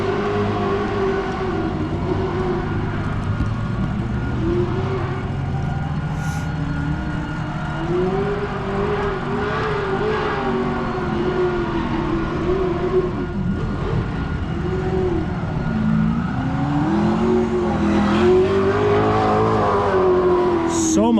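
A race car circles on practice laps at Mission Raceway, its engine droning and rising and falling in pitch as it revs and shifts, loud and continuous with a faint voice at times.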